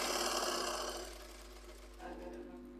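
A sewing machine runs steadily while stitching cloth, a quiet continuous mechanical whir that eases slightly partway through, with a faint voice in the background.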